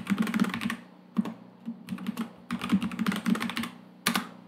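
A password is typed on a computer keyboard in close, crisp bursts of key clicks, with short pauses between clusters of presses and no voices.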